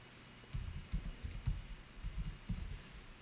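Fingers tap on a computer keyboard in short uneven runs of close, soft clicks, with brief pauses between the bursts.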